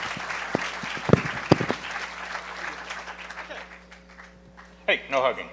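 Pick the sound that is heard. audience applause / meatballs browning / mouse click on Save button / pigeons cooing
audience applause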